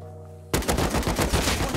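Rapid automatic AK rifle fire in the survival video game Rust bursts in suddenly after a quiet moment, loud, close and sustained with a fast rhythmic crackle.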